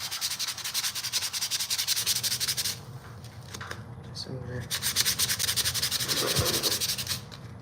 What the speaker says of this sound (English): Let's hit it with one more round of sanding to get everything even